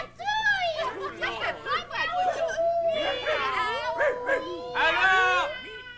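Several people yap and yelp in imitation of a small dog, overlapping, high-pitched and rapid in close bursts, with a brief spoken line amid the yapping.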